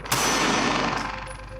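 A single sharp gunshot fired at a target on a training range cracks out loudly near the start, followed by a ringing metallic decay that fades over about a second and a half.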